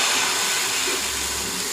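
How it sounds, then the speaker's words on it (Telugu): Fermented chickpea (senagala) dosa batter, poured thick like an uttapam, sizzles on a hot pan with a steady, close, even hiss that holds throughout. "ఇప్పుడు ఇదే పిండిని నేనైతే ఊతప్పంలా వేస్తున్నాను"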